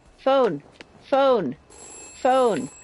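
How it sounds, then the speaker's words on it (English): Three loud, evenly spaced rings from a telephone in the video game We Happy Few, each a bright warbling burst separated by short pauses, with a faint steady tone in the background. "Phone."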